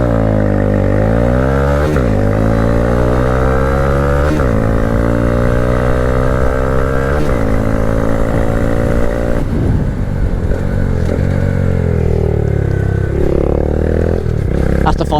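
A 2022/23 Honda Grom motorcycle accelerating hard, its small engine revving up through several gears with rising whines and brief shift dips, loud and close throughout, wind noise growing near the end.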